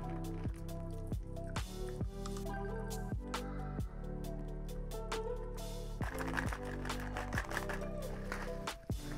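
A coffee cocktail poured from a shaker through its lid strainer into a glass, giving a steady close liquid pour with splashing drips and faint clinks throughout.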